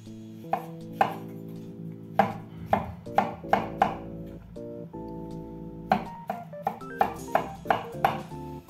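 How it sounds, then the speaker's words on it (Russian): A knife chops 300 grams of button mushrooms into small cubes on a board, with a quick series of sharp, close cuts in uneven bursts over a sustained musical background. "беру 300 грамм шампиньонов и нарезаю их мелким кубиком"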